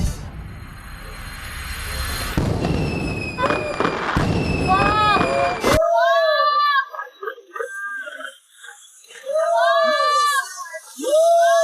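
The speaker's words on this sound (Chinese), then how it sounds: "所以我就今天上午去买了一些烟花，我们一起观赏吧" Fireworks set off as a romantic gift at a shared house, crackling and booming loudly for the first six seconds, then giving way to a child crying in rising, sobbing wails.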